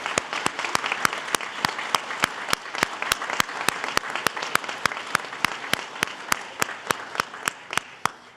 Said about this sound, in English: one more round of applause for all these students and their remarkable achievements